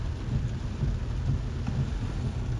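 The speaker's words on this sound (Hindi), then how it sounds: "दोस्तों आप देख सकते हैं बहुत ही बारिश हो रही है" Heavy rain pours steadily with low rumbling thunder during a road trip from India toward Bhutan in an XUV 3XO, a dense continuous roar with no speech.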